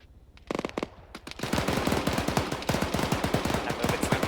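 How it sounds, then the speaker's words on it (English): Rapid bursts of automatic gunfire crackle through a video-game battle around a town, sharp repeated reports starting sparse then rolling into sustained, dense firing with a distant, echoing quality. "hearing the gunfire back in the town"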